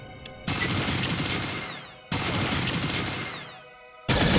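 Gauss pistol shots in the video game Fallout 2: three loud, sharp electric blasts, each followed by a long ringing, metallic decay with descending tones, spaced about two seconds apart.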